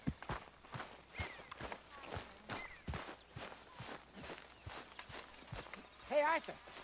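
Horse hooves in the video game Red Dead Redemption 2, a steady run of soft clopping hoofbeats at a walking pace, close and moderately loud, with game sounds and a brief voice-like cry near the end.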